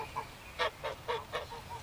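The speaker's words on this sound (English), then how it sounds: "I looked at the geese, which was hissing and huddling in the corner of the yard." Geese kept in a backyard give a run of about six short, harsh honking calls in an uneven rhythm, fairly close and moderately loud with no talking.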